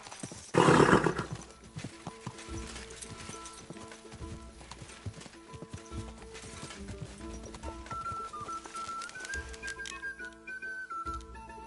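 Horse hooves clip-clop in the video game Kingdom Come Deliverance 2, opening with a loud burst and a neigh, then steady hoofbeats under layered game music and ambience.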